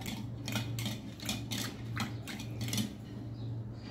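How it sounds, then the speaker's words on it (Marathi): Yogurt and water are churned together in a bowl for masala buttermilk, giving a run of rhythmic clattering strokes about three per second over a steady low hum, close and moderately loud, with no voices. "4 ते 5 मिनिटं घुसळून घेऊया।"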